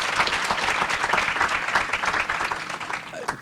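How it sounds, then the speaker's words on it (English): An audience at a Princeton University training session claps steadily, dense sustained applause from a roomful of people, loud and even throughout with no voices over it. "let's give a round of applause to Paul and the Princeton University staff for accommodating us today"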